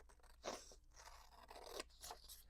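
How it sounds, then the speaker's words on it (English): Scissors snip around a paper envelope in a few crisp, crunchy cuts with short pauses between them, close and fairly quiet, with no talking. "now I'm just going to cut around and hope I don't cut the envelope open"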